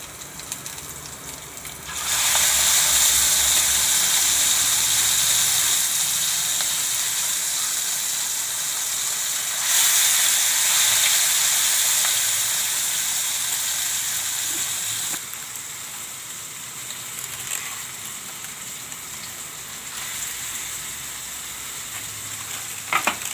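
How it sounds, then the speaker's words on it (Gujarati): Tandoori eggplant and potato curry hits a hot pan with a loud, steady sizzle of frying that rises sharply, eases slightly, then surges again before settling into a continuous hiss, with no talking. "હવે આપણે આ આપણી તંદૂરી શાક છે એ નાખશું એમાં"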